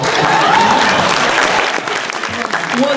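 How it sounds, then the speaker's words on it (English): Wedding guests clapping at a show, a loud, continuous round of applause from a crowd, with a voice briefly rising above it near the start and again at the end. "Come on, clap, man!"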